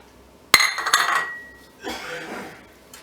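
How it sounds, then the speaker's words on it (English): A spoon mixing salt and sugar in a bowl for homemade marshmallows, sharp metallic clinks against the container followed by a shorter scraping stir, close and clear. "Just give this a quick mix"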